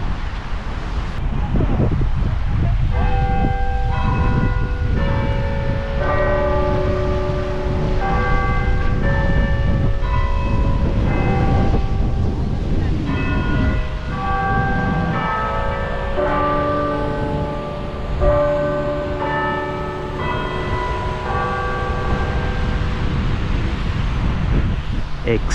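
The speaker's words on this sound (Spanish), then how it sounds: "estamos esperando a ver si suena las campanas" Church bells ring in a tuneful, overlapping peal outside the Crystal Cathedral in Garden Grove, California, sounding steady and fairly near for most of the span, with wind buffeting the microphone and a low rumble underneath.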